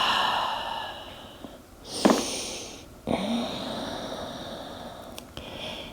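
A person breathes slowly through a yoga stretch in a quiet room. Two distinct, fairly close breaths stand out in the middle, each a soft airy rush.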